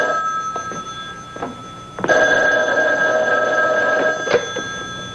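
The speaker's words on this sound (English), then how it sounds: "The hotline is ringing." A telephone rings with a bright, trilling bell, a long sustained ring after a few short clicks and taps, fairly close and loud.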